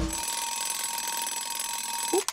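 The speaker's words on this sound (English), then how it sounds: "Oop, there goes my alarm." A cartoon alarm clock rings loudly and continuously in a shrill metallic jangle, then cuts off abruptly at the end with a short clunk.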